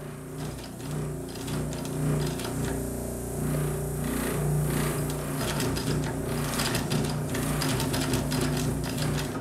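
A clutch-motor sewing machine with zigzag capability runs at slow speed, a steady mechanical whir with a rhythmic needle-bar clatter throughout, close and moderately loud with no voices.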